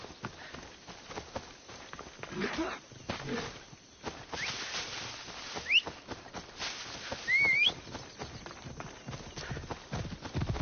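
Hooves clip-clop in a steady walking rhythm from a horse in a PS4 video game, with a couple of short whistles and someone speaking over the top.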